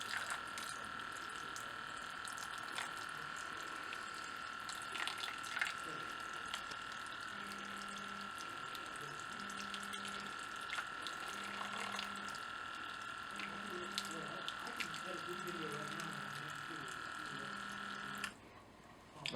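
A small water pump in an automatic soil irrigation system runs with a steady, quiet watery hum and trickle that cuts off near the end, while a person talks over it.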